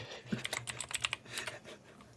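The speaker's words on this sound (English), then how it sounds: "Just mute yourself when you're typing." Quick, irregular clicking of keys on a computer keyboard during typing, close and moderately loud, trailing off toward the end.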